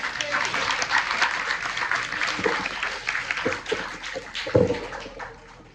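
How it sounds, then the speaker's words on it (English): Applause from a lecture audience, mixed with voices and chatter, fairly loud and dense for several seconds with a few sharper bursts near the end. "Will y'all please give one more round of applause for Professor?"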